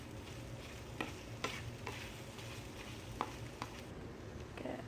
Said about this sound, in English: I'm making some eggs right now. Just scrambling them.